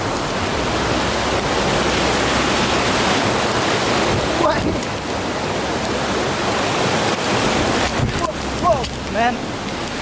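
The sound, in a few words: mountain stream water rushing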